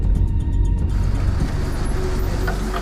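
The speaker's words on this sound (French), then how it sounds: "Son ami arrive en voiture." A car pulls up on a street in a rough city neighbourhood, its engine a steady low rumble with road noise throughout and no voices.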